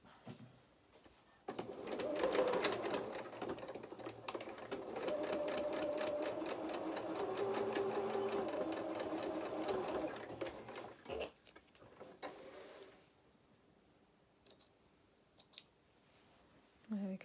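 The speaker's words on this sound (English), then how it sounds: "So then we can slip it out once we've got it positioned under the sewing machine." A domestic sewing machine stitches darts on a toy donkey head, a steady close mechanical whirr with rapid needle clatter lasting about ten seconds, then quieter handling sounds and faint fabric shuffling.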